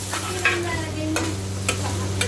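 Garlic and ginger crackle and sizzle in a hot pan, stirred with a few sharp clattering scrapes, under a low steady hum.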